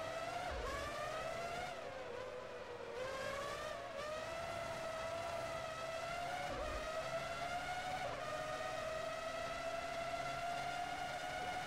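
A Renault Formula One car from the PS2 racing game Formula One 03, racing the British round, screams with a loud, continuous high-pitched engine whine that dips and climbs again through several gear shifts, with no voices.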